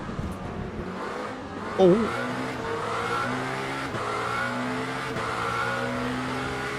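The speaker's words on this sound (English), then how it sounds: "Still some hypercars coming." Hypercar engines in the Le Mans Ultimate racing game at Bahrain give a steady, continuous drone with shifting tones as cars pass, with a brief voice heard early.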